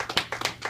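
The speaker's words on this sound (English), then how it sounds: "Everybody give them a warm round of applause." A short burst of hand clapping from a few people at an Army swearing-in ceremony, close and uneven, fading quickly.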